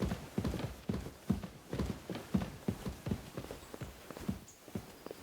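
Horse hooves clip-clop in a steady walking rhythm through Kingdom Come Deliverance 2, the regular close footfalls continuing throughout with no talk over them.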